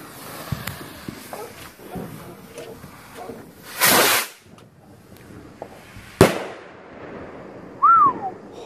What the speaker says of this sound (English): Okay, here comes the salute rocket.